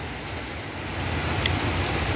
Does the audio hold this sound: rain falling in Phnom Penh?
yes